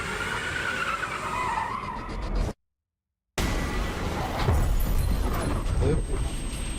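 A Honda Civic skidding out of control at high speed, a rough broadband tire-and-road roar that cuts out briefly and then returns louder, with voices talking over it.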